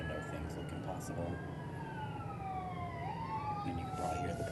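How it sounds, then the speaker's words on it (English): Police sirens wail outside a window, their rising and falling tones sweeping and overlapping at a distance over a steady low rumble of city traffic. "you can probably hear the police and the sirens out my window"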